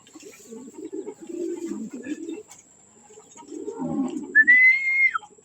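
Pigeons being fed at feeding time, a soft low cooing murmur rising in two bursts, followed near the end by a brief clear whistle-like call.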